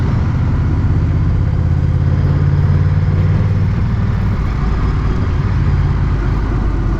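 A Honda Rebel 1100 motorcycle ridden smoothly in sports mode at about 20 mph gives a steady, low engine drone mixed with rushing wind noise. The sound is loud and close, with a slight rise in engine pitch partway through.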